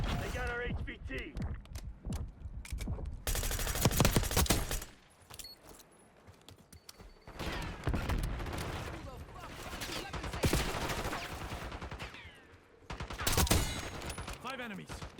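Gunfire in Call of Duty: Black Ops 6 breaks out in loud bursts and single cracks with long stretches of clatter between them, over game voice lines and mechanical clicks.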